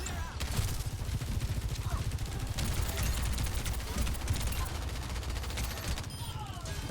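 Rapid submachine-gun fire from Widowmaker in Overwatch, dense bursts of automatic shots rattling continuously in the foreground with game effects around them.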